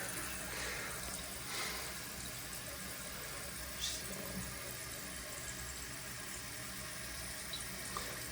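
Water rushes steadily as a toilet tank refills through a newly installed fill valve, a continuous close hiss with no break and no talking.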